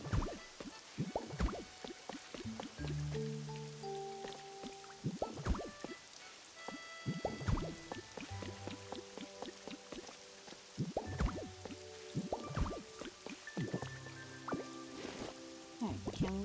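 Rain summoned by Kyogre in a Pokémon game falls as a soft patter of scattered drips and splashes, layered under gentle game music with chiming tones.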